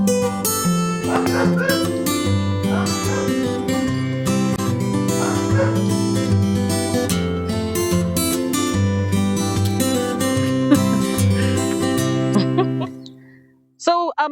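Dogs yip, whimper and bark excitedly in a sustained, overlapping chorus that runs on without letup, then cuts off abruptly near the end.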